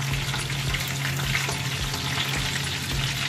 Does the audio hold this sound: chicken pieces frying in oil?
yes